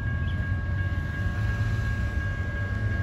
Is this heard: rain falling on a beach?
no